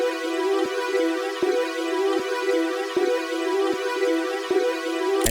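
A melody sample, reversed and pitched up 12 semitones for a hard trap beat, plays as a steady, swelling tone with regular rhythmic dips, bright and loud with no talk.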